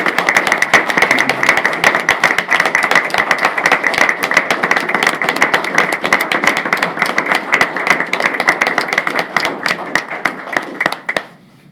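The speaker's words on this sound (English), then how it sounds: "Please join me in applauding Bill as I present this retirement plaque to" An audience applauds steadily for a retiree receiving a plaque at a county board meeting, a dense and loud clapping that carries on for several seconds, then thins and stops.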